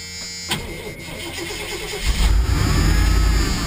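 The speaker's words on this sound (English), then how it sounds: "It runs pretty decent for a truck that sat for a couple of years." An old pickup truck that sat unused for a couple of years starts and runs, the engine catching with a thump and settling into a rough, loud idle that swells and rumbles up close.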